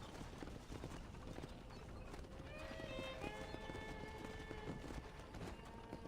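Horse hooves clip-clop at a steady trot as a horse-drawn stagecoach rolls along in the video game Red Dead Redemption, a continuous mid-level rhythm with faint tonal music or ambience over it.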